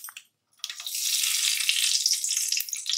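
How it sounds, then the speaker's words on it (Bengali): Whole spices (cinnamon, green cardamom and bay leaf) sizzle in hot oil for tempering: a brief clatter, a short pause, then a sudden loud hiss of steady frying that holds close and continuous. "আমি ফোড়ন দিয়ে দিলাম।"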